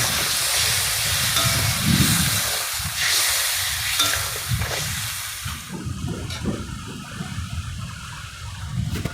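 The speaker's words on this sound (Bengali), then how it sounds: "তারপর অল্প পরিমাণে জল দিলাম," A little water hits a hot pan while bata fish and eggplant chorchori cooks, sending up a loud rushing hiss of steam and sizzle that eases off after a few seconds into softer bubbling.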